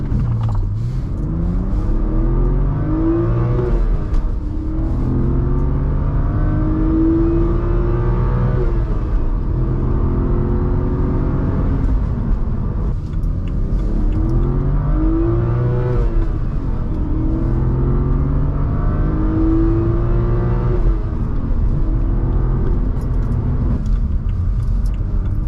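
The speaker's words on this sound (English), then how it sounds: "So now it's time to take it out on the road and give it a Doug score" BMW with an N52 engine fitted with an N54 intake manifold, driven on the road: a loud, close engine drone rising and falling through several rev sweeps and gear changes over continuous road rumble.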